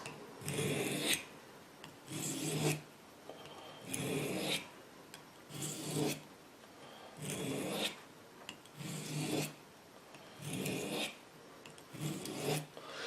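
A kitchen knife drawn across a sharpening stone, alternating sides, gives seven evenly spaced raspy grinding strokes roughly every two seconds, close and clear with no talking.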